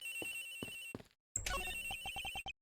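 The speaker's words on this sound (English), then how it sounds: "The ringing is coming from somewhere around here." A telephone in the Ace Attorney Investigations video game rings in bright, electronic trills, one burst of repeated pulses, a brief silence, then a second burst of rapid chirping tones, clear and close with no voices.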